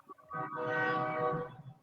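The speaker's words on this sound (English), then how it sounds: "is that a freaking train?" A train passing at a distance with its horn sounding one long sustained blast, heard faintly through an open window, with no talking.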